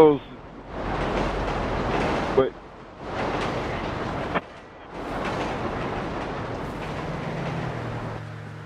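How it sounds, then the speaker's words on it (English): A train rolls past in GTA V during a mountain bike ride, its broadband rumble and clatter surging in three loud waves with brief gaps, close by, ending in a lower drone. "Watch out, there's a train coming."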